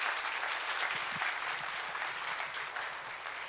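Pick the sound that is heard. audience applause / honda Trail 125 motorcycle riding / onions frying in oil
audience applause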